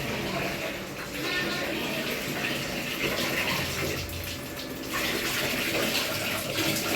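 Water runs steadily from a tap into a home basin or tub, a constant rushing gush with faint voices in the background.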